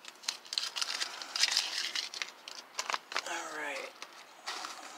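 Close, fairly quiet crinkling and rustling as a package wrapped with packing tape on the corners is handled, in uneven bursts with a short scraping pass partway through.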